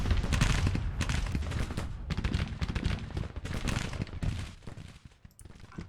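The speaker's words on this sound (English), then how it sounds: "Look at the shells. I guess they're firing at the first battery." Artillery and musket fire in the video game Grand Tactician: The Civil War, with dense overlapping booms and crackling volleys in rapid succession, loud and sustained before thinning out near the end.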